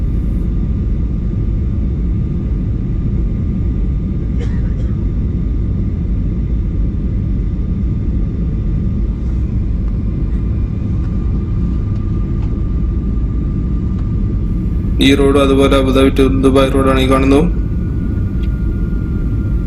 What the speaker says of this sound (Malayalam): അങ്ങനെ നമ്മളെ ഫ്ലൈറ്റ് ഇതാ റൺവേയിൽ എത്തിയിട്ടുണ്ട്. റൺവേയിൽ ടച്ച് ചെയ്യാനായിട്ടുണ്ട്.